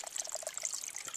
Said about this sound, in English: See how much water is really coming out, because it's all getting away.